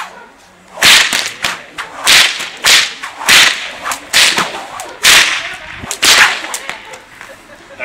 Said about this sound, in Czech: než otevřu pivo bičem